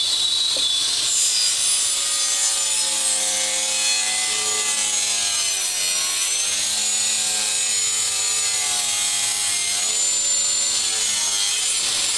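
A hand saw cuts through wood blanks for an end grain butcher block, a loud continuous rasping stroke after stroke with a squealing, shifting pitch and no talk.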